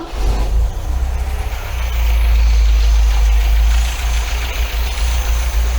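An MGB sports car engine runs at a steady idle during a carburettor and timing tune-up, its deep, constant low rumble close and loud for the whole stretch.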